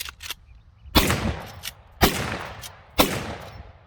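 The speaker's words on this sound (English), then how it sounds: "Now we're going to show a couple of shots with the brake with some full house loads." Three loud, sharp lever-action rifle shots fired through a muzzle brake with full-power loads, evenly spaced about a second apart, each cracking close by and trailing off into a short echo, with faint mechanical clicks between.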